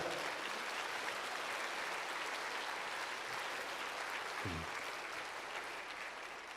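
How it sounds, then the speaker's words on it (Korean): Church congregation applauding during a memorial worship service for Korean War veterans, a steady, dense patter of clapping that fills the room at even loudness throughout. "뜨거운 박수를 한 번 보내주시기 바랍니다."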